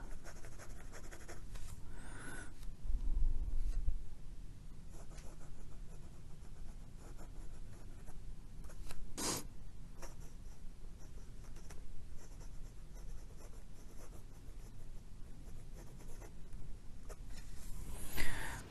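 A stainless steel Parker Jotter fountain pen with a medium nib writes on paper, a close, quiet, continuous scratching of strokes and pauses, with a few brief taps and clicks along the way.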